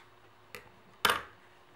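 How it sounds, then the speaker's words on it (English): Scissors trim away the carrier film of a dry transfer sheet in two quick crisp snips, a faint one followed by a louder, sharper cut, close by in a quiet room. "take a pair of scissors"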